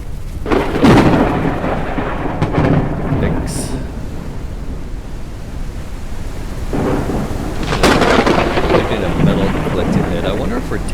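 Thunder rumbles from a lightning storm in the video game Forever Skies, with two loud rolling cracks, near the start and again around eight seconds, over a steady bed of rain and wind.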